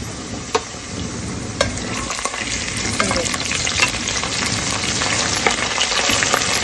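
Garlic ginger paste frying in a pot for aalu gosht, a constant, close sizzle with occasional stirring scrapes and clinks standing out over the crackle.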